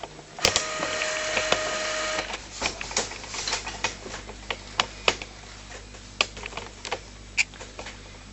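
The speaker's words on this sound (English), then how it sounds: "the printer has just about finished its setup procedure now" An Epson R285 inkjet printer fitted with a continuous ink supply system runs its setup cycle, a steady mechanical whir with repeated ticking and clicking pulses, close and fairly loud, with no talk.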